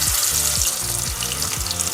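Fish cakes made with cake flour fry in shallow oil, giving a steady, close hiss and crackle of sizzling with faint bubbling throughout.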